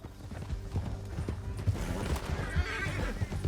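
Horses neigh and hooves clip-clop in quick galloping rhythm during a Red Dead Redemption 2 canyon ride, close and busy, with faint voices mixed in.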